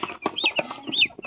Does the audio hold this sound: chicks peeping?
yes